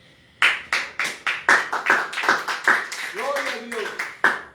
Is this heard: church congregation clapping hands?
yes